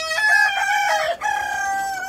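A Fayoumi rooster on a rooftop garden with chickens crows once, loud and close, a drawn-out cock-a-doodle-doo with a short break before its final long note.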